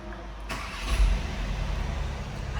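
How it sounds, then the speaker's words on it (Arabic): Audi Q3 S-line diesel engine starting in the open, a brief crank rising into a steady, fairly quiet idle rumble close by. "نديمارينا الطوموبيل."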